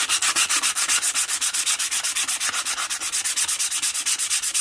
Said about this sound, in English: if you then do this by hand, get the finer sandpaper